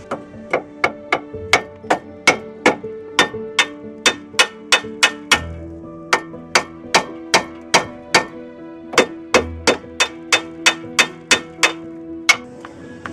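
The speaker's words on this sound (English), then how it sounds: "then we just hammer this steering knuckle out." Repeated sharp metallic hammer blows driving out the steering knuckle of a 2007 Volvo S40 during wheel bearing work, ringing out in quick, fairly regular bursts, close and loud, with brief pauses between strikes.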